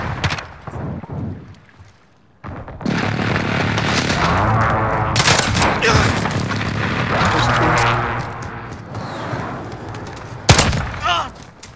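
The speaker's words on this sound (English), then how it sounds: "Enemy precision airstrike inbound." Precision airstrike in the Modern Warfare video game: a dense, sustained roar of explosions and rattling gunfire rolls on for several seconds after a brief lull, with a sharp loud blast near the end.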